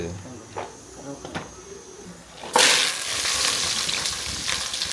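Mustard seeds hit hot oil and break into a loud, dense crackling sizzle about halfway through, after a quieter stretch with faint kitchen clatter.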